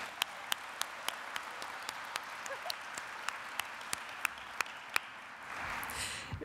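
Thin, scattered applause at the Marist College 2023 Honors Program medal ceremony: faint, evenly spaced single claps in a quiet room, ending in a brief swell of rustle.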